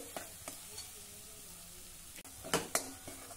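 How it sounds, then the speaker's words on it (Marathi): A ground paste of coriander, cumin, chilli and garlic sizzles faintly in a pan while a spoon scrapes and clicks against the metal, with a few sharper stirring strokes near the end. "हे वाटण आता आपल्याला छान परतून घ्यायचं आहे।"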